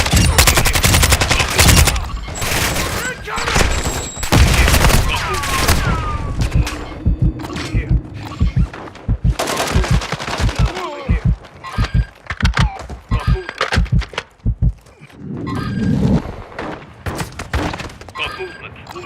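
Repeated gunfire bursts and heavy thuds in Call of Duty Warzone 3 DMZ, loud and close with rapid volleys and pauses, mixed with game radio voices and ambient effects.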